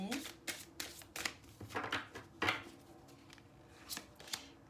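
A deck of cards riffled and shuffled with a series of quick papery bursts, then a card drawn, close and fairly soft with no voices.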